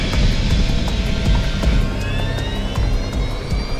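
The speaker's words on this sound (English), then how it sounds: "Just another routine takeoff." A plane roars down the runway on its takeoff roll, engine noise loud and close and holding steady, with a rising whine building partway through and rhythmic thumps under the drone.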